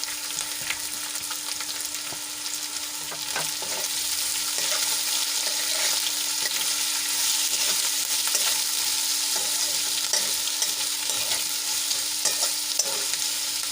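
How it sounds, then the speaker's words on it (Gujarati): Chilies and chopped onion frying in a pan for a potato and onion dish, a dense continuous sizzle with scattered crackles and stirring clicks throughout, close and steady with no talking. "હવે એમાં મરચાં એડ કરી લઈશું અને ડુંગળી હતી કાપેલી એ એડ કરી લઈશું."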